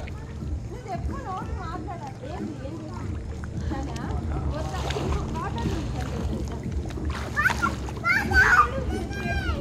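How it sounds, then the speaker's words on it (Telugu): A young boy splashes while swimming in a pool without a tube, producing faint intermittent water sounds beneath lively chatter from children and adults nearby. "మంచిగా స్విమ్మింగ్ చేస్తున్నాడు"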